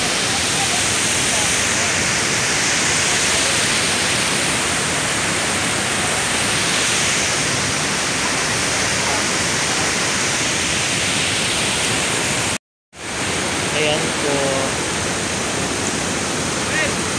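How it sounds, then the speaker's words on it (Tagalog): Strong, roaring flow of water at Tinuy-an Falls in Surigao, a loud continuous broadband rush filling the whole clip, broken only by a brief dropout near the end. "parang malakas po ang ano yung tubig, daloy ng tubig"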